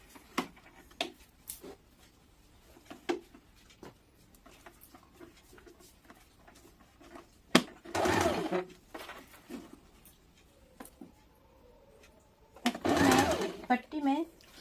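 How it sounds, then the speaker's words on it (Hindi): Sewing machine stitching a fabric strip around the armhole of an umbrella baby frock, with two loud bursts of machine running separated by quiet stretches of light tapping and handling noise. "अब इस पट्टी को काखी में पूरा गोलाई से सिल लेंगे।"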